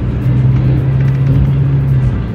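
A double-decker intercity bus on the Bandung–Palembang route rolls into a ferry parking area, its engine a steady low drone with a constant hum that holds throughout, close and fairly loud with no talking.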